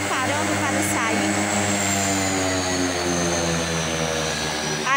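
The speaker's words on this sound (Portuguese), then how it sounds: "o avião, ele está se preparando para sair." A propeller airplane runs its engines on the ground as it prepares to depart, a loud, steady drone with layered tonal hum and a slowly shifting pitch that holds throughout.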